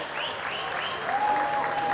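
Audience applause at a university young chefs cooking competition award ceremony during the Adana taste festival, a steady even wash of clapping throughout, with a faint sustained tone and some background murmur.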